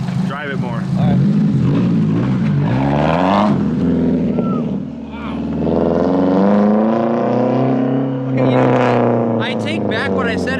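Nissan 240SX with blast pipe exhaust, running and driving for the first time in ten years, a loud raspy engine drone rising and falling with revs, close by and continuous throughout.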